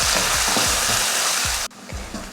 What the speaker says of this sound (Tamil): சேர்த்துட்டு லைட்டாக வதக்கி விட்ருவேன். அடுத்து தக்காளி, சின்ன தக்காளியாக 2 தக்காளி வதங்கட்டும்.